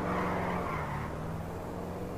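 Franklin's four-door Buffalo S racing along in GTA 5, a continuous engine drone with tire skid and squeal, loud at first and then steady, no talking.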